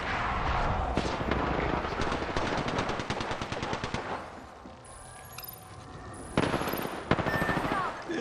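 Gunfire in the battle royale shooter Apex Legends: loud, rapid automatic bursts up front, a quieter pause with faint pings, then renewed sharp shots near the end.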